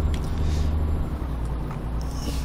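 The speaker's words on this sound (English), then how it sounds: "There's a truck flying up beside me." A truck in Euro Truck Simulator 2 rushes past on a Slovak road, a loud steady engine and road roar with a brief swell as it overtakes.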